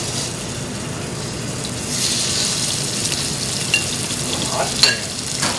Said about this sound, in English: This is an 8-ounce filet that I split in half. I'm going to sear it.